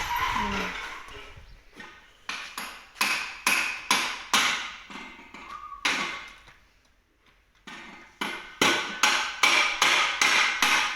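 A hammer drives nails into a hose in a steady series of sharp, close knocks, grouped in runs with short pauses between them.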